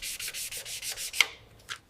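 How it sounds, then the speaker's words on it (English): Rusted steel on a 1979 Loomis armored truck is sanded by hand in close, rhythmic rubbing strokes, about seven quick scrapes in a row, then a sharper tap and one last stroke. "we're carefully sanding off all the old grease and corrosion"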